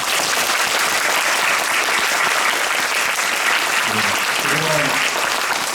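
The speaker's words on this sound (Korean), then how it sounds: "박수 한 번 주십시오." A theatre audience at the final closing performance of the musical Maybe Happy Ending applauds the musicians, loud dense clapping filling the hall without a break while a voice briefly sounds through it near the end.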